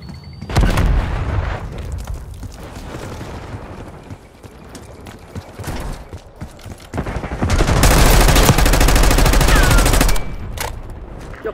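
Heavy gunfire and explosions in Call of Duty: Black Ops 6 during a fight to protect a high-value target: loud bursts of automatic fire, booms and a long sustained barrage near the end, with brief quieter gaps.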